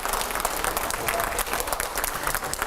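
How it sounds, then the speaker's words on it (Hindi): A studio audience gives steady, dense applause to welcome a guest, a former Rajya Sabha MP, onto a Hindi TV news debate set. The clapping stays loud and continuous throughout with no break. "जोरदार तालियों से स्वागत करिए"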